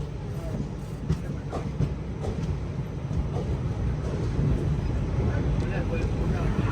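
Tirupati Express pulling into Arakkonam station, a continuous low rumble of railcars rolling on the track, slowly growing louder, with faint voices talking beneath it.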